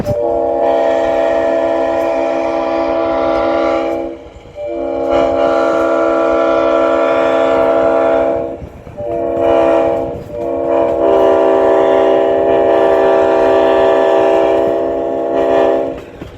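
A loud, sustained train horn blares in long chords, breaking off briefly a few times, over the low rumble of a passing train close by.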